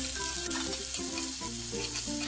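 Whole spices, onion, green chili, ginger and garlic sautéing in hot oil: a close, steady sizzle with stirring and scraping in the pan, and no talk.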